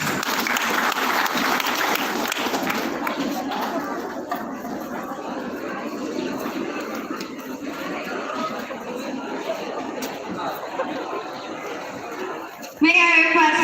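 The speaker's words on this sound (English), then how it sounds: "Let's give her a round of applause." Crowd applause at a high school graduation ceremony, a broad wash of clapping mixed with chatter and some chuckling that stays steady for most of the stretch before a voice cuts in near the end.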